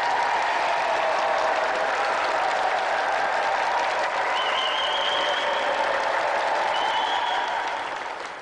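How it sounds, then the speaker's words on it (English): Loud, sustained audience applause for a game show contestant on a TV studio set, dense clapping and cheering that holds steady before starting to fade at the end. "And ladies and gentlemen, another round of applause for tonight's contestant, Richard Sylvester!"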